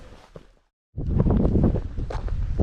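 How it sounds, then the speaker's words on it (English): Breezy wind on the North Ronaldsay coast in Orkney, buffeting a microphone in loud rumbling gusts after a brief quiet gap, close and continuous with no talk. "So it's a bit breezy, so I don't know whether you can hear me."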